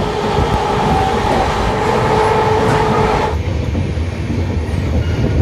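A passenger train runs on rails near Jhajha station, giving a loud, continuous rumble with rhythmic clattering and a faint whining tone that cuts off partway through, leaving the steady roll alone.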